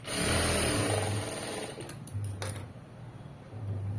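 A sewing machine top-stitches the front panel of a blouse, running in a steady whir through short bursts with brief pauses, close and fairly loud, with no voices over it.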